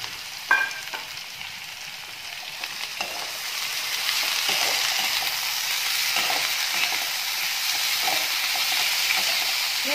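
Pumpkin peel stir-frying in a kadai with onion and chilli, a steady close sizzle with scraping stirs and a few sharper clinks early on, running alone without talk.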